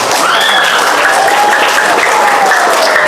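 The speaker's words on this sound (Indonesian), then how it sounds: "Berarti boleh tepuk tangan, boleh tepuk tangan." Steady, dense applause from a large audience, loud and continuous throughout with a faint crowd murmur underneath.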